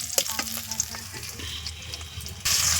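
Hot oil spatters and sizzles as fish fries in a pan, a steady crackling hiss with scattered pops, up close, rising louder near the end.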